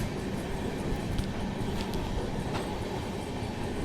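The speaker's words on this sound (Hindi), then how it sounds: "राजधानी भी धीरे धीरे निकलते हुए भयंकर धूल का सामना करना पड़ रहा है यहाँ पे" Rajdhani Express rolling slowly along track under repair, a steady low rumble of wheels and carriages with faint clicks and metallic squeaks, heard from on board without talk.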